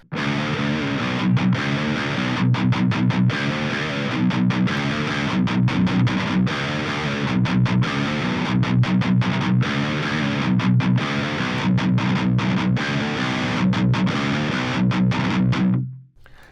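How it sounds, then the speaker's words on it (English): Heavily distorted electric guitar playing a steady, rhythmic riff, loud and saturated throughout, cutting off abruptly near the end. "there's definitely distortion added, especially if you go overboard like I just did"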